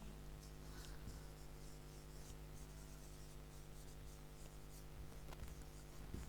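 A pen scratches out a handwritten Bengali sentence, a faint, soft rubbing and scribbling that sits low under a steady background hum.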